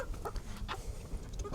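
A lavender Americana chicken clucking in a breeding pen, giving a few soft, short clucks close by amid faint background rustle.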